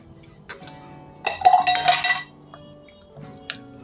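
A metal spoon clinks and scrapes against a pan while capsicum paneer masala is stirred, with a busy burst of clattering in the middle and lighter taps before and after, close and fairly loud.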